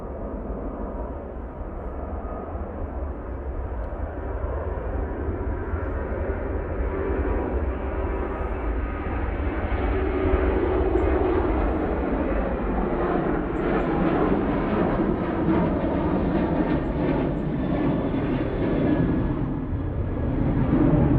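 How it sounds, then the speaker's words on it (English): A Ryanair jet departs Manchester Airport with a deep, sustained engine roar that thickens and grows louder as it climbs away, rumbling on steadily to the end without any voices. "There goes Ryanair."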